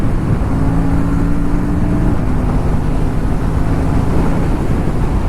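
An Aprilia RS 457 motorcycle runs at speed on a highway with a quickshifter fitted, producing a loud steady engine drone with wind roar. Faint pitch steps mark the gear changes.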